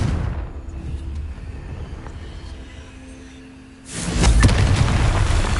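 A Confringo fire spell bursts in Hogwarts Legacy, a sudden loud booming blast that follows a quieter stretch of rumbling ambience and keeps roaring as it fades.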